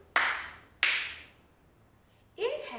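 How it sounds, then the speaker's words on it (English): Two sharp, energetic hand claps ring out alone in a quiet room, well spaced and each decaying briefly, before a voice starts speaking near the end. "Watch my clap."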